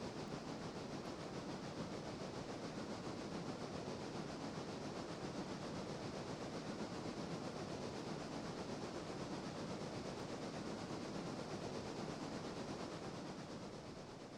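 Steam locomotive train in Railroader, a railroading game set in the 1940s, runs with a steady, continuous rumble and hiss that holds constant and fairly loud throughout, with faint rhythmic rail clatter underneath.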